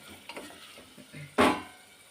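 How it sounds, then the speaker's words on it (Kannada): Paneer pieces frying in oil inside a pressure cooker: soft sizzling with light spoon taps and stirring, then a sudden loud burst of sizzle that fades away. "ಸ್ವಲ್ಪ ಫ್ರೈ ಮಾಡಿಬಿಟ್ಟು ತೆಗೆದಿಟ್ಕೊಳ್ಳೋಣ ಇದನ್ನ ನೋಡಿ ಇಷ್ಟು ಫ್ರೈ ಆಗಿದೆ"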